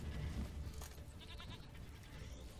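A sheep bleats faintly in The Witcher 3: Wild Hunt, a wavering cry partly buried under steady game ambience.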